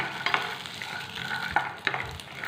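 Peanuts and green chilies frying in oil for a hotel-style chutney, a steady close sizzle broken by a few scraping stirs, with no voices.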